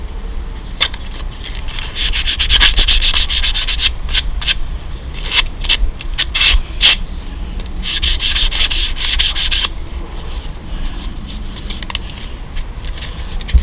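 Skull-shaped wooden book ends rubbed by hand with 100 grit sandpaper, loud close scratchy strokes in quick uneven bursts and a longer steady stretch, no voices.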